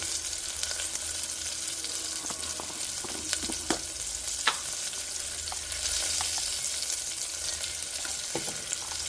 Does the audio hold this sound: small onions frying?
yes